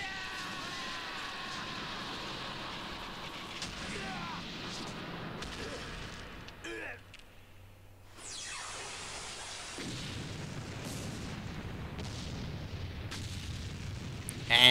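An explosion from a Kamen Rider show rumbles in bursts with a loud boom and crackling debris, a brief quieter gap, then more blasts, with a voice briefly heard over the action.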